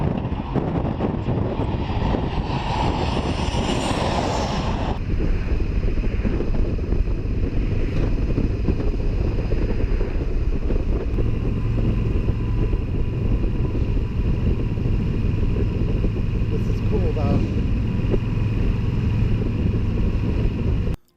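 Steady motorcycle engine drone while riding, with strong wind rush over the microphone, continuous and loud for the whole stretch.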